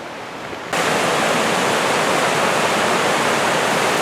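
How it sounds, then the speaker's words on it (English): A woodland stream pours over old stones that form a small weir, giving a steady, loud rushing wash. The sound starts abruptly and continues unbroken. "The stream's got old stones that act like a sort of weir."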